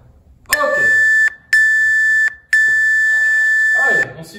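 Three loud electronic beeps from a workout interval timer sound in quick succession, the last one held longer, with a voice faintly underneath.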